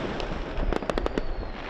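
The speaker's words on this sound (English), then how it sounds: "a fireworks display lit up the skyline around the German capital's TV tower landmark" New Year fireworks over Berlin's skyline around the TV tower, a cluster of sharp bangs and crackling bursts in quick succession against a steady outdoor roar, moderately distant.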